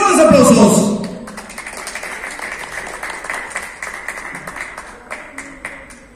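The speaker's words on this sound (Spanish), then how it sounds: "¡Lo motivamos con fuertes aplausos!" A school audience at a bicentennial independence celebration program claps for a speaker, a burst of applause that starts loud and quickly thins to scattered, fading claps.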